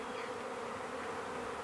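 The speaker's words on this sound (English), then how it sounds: "When they're in flight, it looks like there's a million bees in the air" Honeybee swarm in flight around a bush, a dense, continuous buzzing hum of many bees, steady and unbroken, with no voices.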